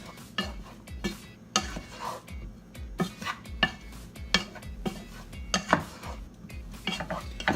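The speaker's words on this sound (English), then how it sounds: "Then we'll go ahead and give it a mix." Seasoned potatoes and spinach with olive oil are tossed in a dish, with repeated clinks and scrapes of a utensil against the bowl in an irregular rhythm, close and moderately loud, with no voices.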